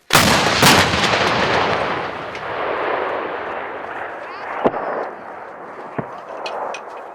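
A loud, booming artillery gun blast during live-fire training in Luhansk region opens the clip and rumbles away, followed by a few sharper distant cracks over a lingering roar.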